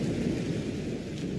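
Thunder rumbling during a nighttime storm, a continuous low, heavy roll with rain-like hiss over it, fairly loud and steady with no voices.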